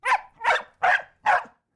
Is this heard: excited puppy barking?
yes